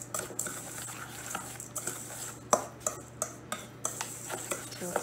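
A spoon stirs cheesecake crust crumbs with melted lactose-free margarine in a bowl, giving a quiet, continuous scraping broken by regular light clinks against the dish.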